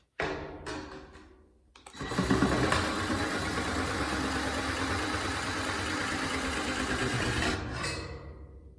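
A Ridgid Jobmax or Ryobi Jobplus oscillating multi-tool gives a few short bursts, then runs with a loud, steady, close buzz for about five seconds before cutting off.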